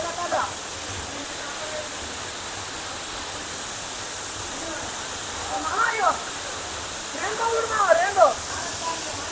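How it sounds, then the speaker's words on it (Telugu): Constant broadband roar of a waterfall fills the scene, steady and enveloping, while people talk briefly over it in the middle and near the end. "వాటర్ ఫాల్స్ అంట."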